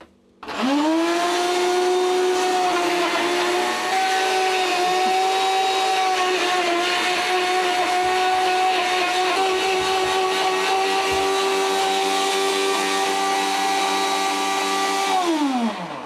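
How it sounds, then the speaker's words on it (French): A kitchen blender purees eggplant with olive oil for baba ganoush, running steadily at high speed with a loud, constant whirring motor for about fifteen seconds before spinning down. "Donc là, on est sur un mixeur shaker."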